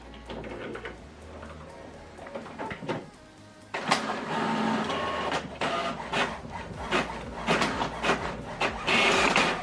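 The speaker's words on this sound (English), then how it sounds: "So this document now is going to print single page each." An HP Officejet printer prints a single-sided document, its mechanism whirring and clicking through a rhythmic sequence of feeding and carriage movements, loud and close with no talking over it.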